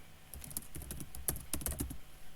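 Computer keyboard typing as Python test code is entered, close, crisp keystrokes in quick irregular bursts with brief pauses, no voices.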